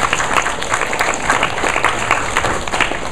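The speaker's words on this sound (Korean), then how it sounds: "이렇게 박수를 한번 주십니다." Steady, full audience applause at a presentation event, dense and loud clapping from a crowd that holds evenly without a break.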